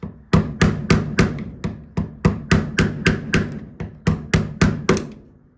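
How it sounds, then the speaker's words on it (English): Trim clips on a Firebird Camaro header are struck into place with about sixteen evenly spaced, sharp knocks, loud and close, each ringing briefly before the next. "See if it really shows up when I hit it here."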